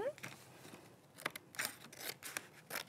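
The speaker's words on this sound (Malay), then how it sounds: "nanti kita gunting ikut dia punya garisan" Scissors snip steadily along the printed lines of a paper mask in a classroom craft lesson, a run of soft, close crisp cuts with faint rustling and low background sound.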